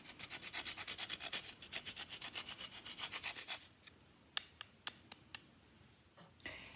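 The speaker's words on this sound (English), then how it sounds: "then a nice grating of fresh nutmeg" Fresh nutmeg grated into celery root and celery soup: a steady run of about twenty rhythmic rasping strokes, close and fairly loud, then a few sharp isolated taps and a short scrape.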